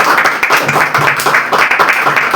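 Dense, steady applause from a crowd of neighbors gathered at a street church outreach, loud and continuous throughout with no pauses.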